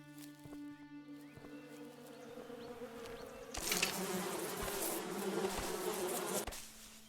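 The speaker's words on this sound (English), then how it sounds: "Because there's some bees up here." Bees buzzing in the Western survival game Above Snakes, a faint insect drone at first that swells into a dense, louder buzzing swarm for several seconds before cutting off.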